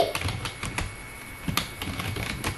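Keys clatter on a computer keyboard while text is typed into MS Word, a close series of crisp, unevenly spaced clicks with short pauses between them and no speech.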